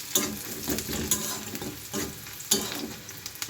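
Onions fry in a pan to a deep red, a close, steady sizzle broken by several sharp scraping stirs that come in uneven bursts, with no talking.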